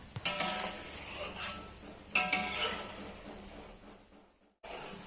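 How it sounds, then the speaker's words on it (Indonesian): Steady sizzling of peanuts frying in oil, with scraping and clinking as they are stirred, a few louder stirring bursts before a brief silence. "saat menggoreng kacangnya ini kita sering-sering saja mengaduk kacangnya ya supaya matangnya merata"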